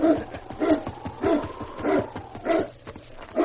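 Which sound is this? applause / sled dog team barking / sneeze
sled dog team barking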